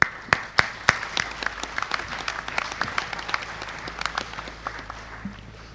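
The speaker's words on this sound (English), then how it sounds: "give all of you participants a round of applause for your community engagement." A crowd applauds panel participants with scattered, crisp claps that start strong and gradually thin out, no voices over it.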